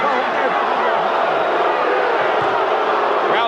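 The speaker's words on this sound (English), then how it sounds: "Crowd booing Cortez's actions." Boxing arena crowd at a heavyweight bout between Evander Holyfield and Riddick Bowe, booing as a steady, loud roar of many voices throughout the few seconds.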